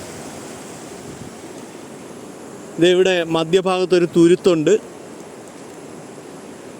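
Water of a forest river flows around a small islet mid-stream as a continuous, even rushing wash, with a voice speaking briefly over it partway through.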